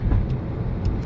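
Montreal city bus on route 109 passing by on an evening street in LaSalle, a steady low engine rumble and road noise, close and moderately loud throughout the short moment.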